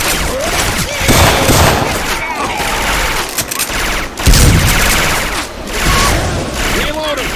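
Rapid bursts of Syphon Filter weapon gunfire in Left 4 Dead 2, loud repeated volleys with short pauses, mixed with game voices calling out.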